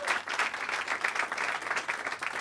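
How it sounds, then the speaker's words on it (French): A small audience of about a hundred people at a stand-up comedy venue in Paris applauds steadily, the clapping dense and continuous though fairly soft and distant. "on peut les applaudir pour nous accueillir ce soir"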